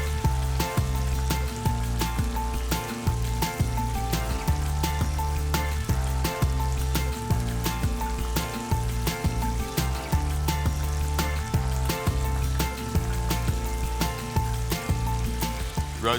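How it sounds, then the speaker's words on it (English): Duck nuggets deep-frying in hot oil give off a continuous crackling sizzle, with dense popping bursts over a steady hiss that holds close and even throughout, mixed with some background music. "It'll sizzle away till it's nice and golden on the outside, cooked all the way through."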